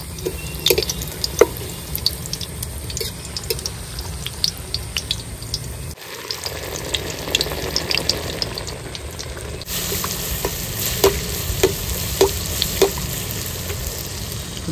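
Tal (palm fruit) pitha frying in oil, a steady sizzle with scattered drips and pops under rain-like background noise, with no talk.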